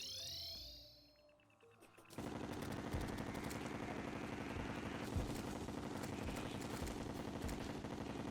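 Rapid automatic weapon fire in the video game Terraria rattles out continuously for several seconds, dense and loud, after a short lull filled with synthetic game tones.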